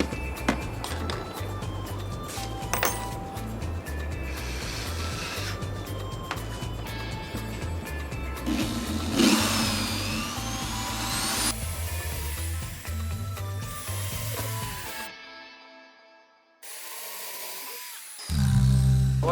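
A power drill whirs steadily, close by, drilling a hole for a hatch lid installation, with short bursts of drilling and a few clatters, then it stops and the motor spins down.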